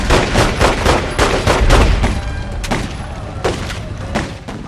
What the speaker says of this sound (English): I didn't know they was gonna have a big shootout at the beginning